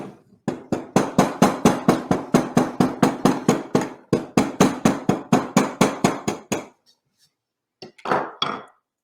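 A steel hammer, gripped short near its head, strikes a bookbinding workpiece in a fast, even series of about two dozen sharp blows. A short pause follows, then a few final taps.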